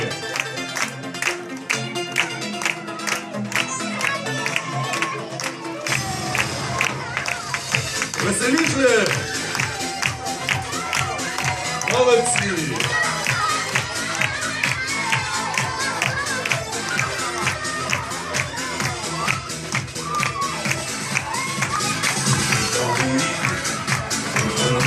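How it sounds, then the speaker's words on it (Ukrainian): Parents clap along at a school New Year party for a first-grade class in Kyiv, a steady run of handclaps under crowd chatter and festive noise that swells after the first few seconds. "а батьки проважають нас оплесками"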